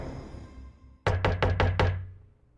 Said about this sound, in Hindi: हमने काफी देर तक दरवाजा खटखटाया